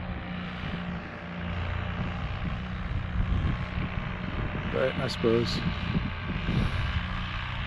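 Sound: powered paraglider flying low overhead

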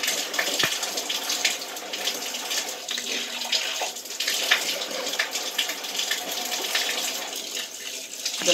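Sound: washing face with water and a rag

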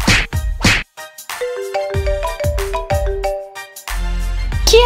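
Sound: mobile phone ringing

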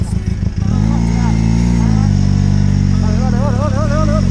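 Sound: BMW F650 Funduro motorcycle engine off road

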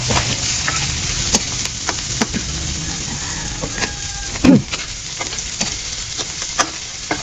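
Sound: garlic sautéing in a pan

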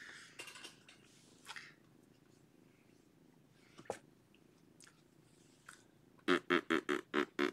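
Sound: cat purring

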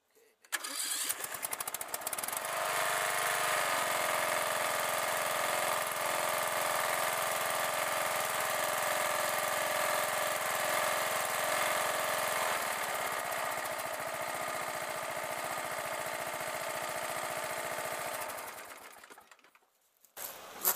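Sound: Craftsman LT 1000 lawn tractor engine running

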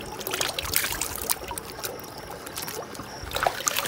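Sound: water trickling while washing face

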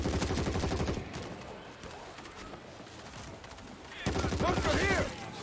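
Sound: gunfire from a gun in the video game World War Z

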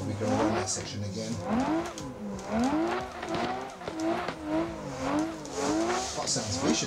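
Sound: Toyota JZX90 race car engine in Assetto Corsa video game

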